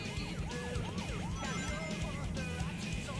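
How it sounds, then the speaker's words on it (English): Police car siren in the video game Sonic Adventure 2 Battle, a wailing, rising-and-falling tone repeating several times over a rumbling engine and game background noise. "That sounded like it was a police car."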